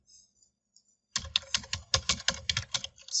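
Fast typing on a computer keyboard while renaming a section view in Revit house-design software, a steady burst of close, crisp key clicks that begins after a second of near silence.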